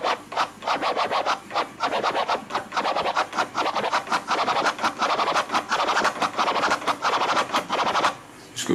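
Rapid rhythmic military scratch on a vinyl record, the hand centered on the record for wide strokes, fast back-and-forth scrubs repeating steadily and loudly, with a short pause near the end.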